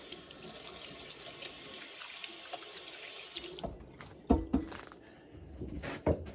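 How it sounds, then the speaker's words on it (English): Hands are washed under a running kitchen tap: a steady, close stream of water pours for a few seconds, then cuts off, followed by scattered knocks and clatter around the sink. "Let me just wash my hands again."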